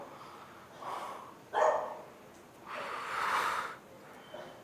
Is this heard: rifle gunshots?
no